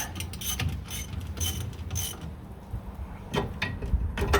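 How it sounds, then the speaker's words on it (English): A hand ratchet tightens bolts on the fiberglass leaf spring of a 1969 Corvette, giving close, quick bursts of clicking in short strokes, with a pause before a final run of clicks. "So I'm just going to get started with the ratchet"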